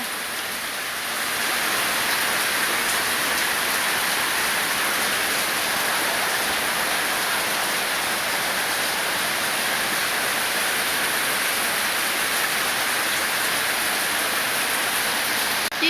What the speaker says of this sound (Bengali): আমাদের এখানে আজকে এত বৃষ্টি হইতেছে অনেক বৃষ্টি পড়তেছে